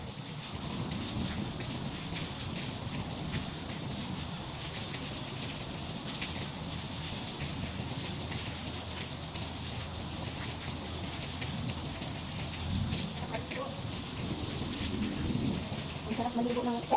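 Heavy rain pours steadily and loudly, with low rumbles of thunder rolling beneath the constant hiss of falling water.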